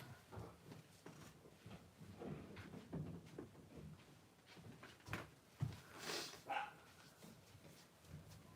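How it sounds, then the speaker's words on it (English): A dog barks and whimpers indoors, somewhat muffled and at a distance, in short irregular bursts alongside faint household knocks. "You can probably hear my dog barking"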